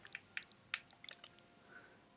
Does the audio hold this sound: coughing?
no